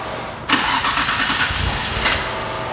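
An ECC-tuned Nissan Skyline R34 GT-R M-Spec engine cranks and fires up, a sudden loud broadband catch followed by a rough, steady idle close by.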